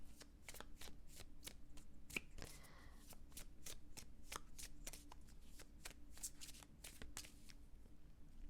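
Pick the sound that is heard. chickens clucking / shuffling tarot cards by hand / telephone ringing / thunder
shuffling tarot cards by hand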